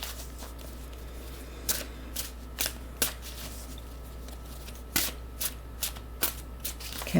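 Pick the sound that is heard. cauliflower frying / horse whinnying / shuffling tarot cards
shuffling tarot cards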